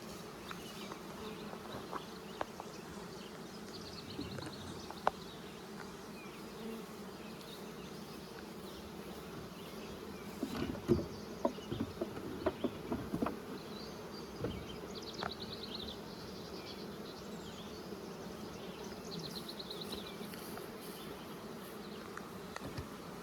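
A steady, soft drone of many honeybees hums around an opened hive during queen rearing. A few small knocks and clicks rise now and then above the continuous buzzing, and no one speaks.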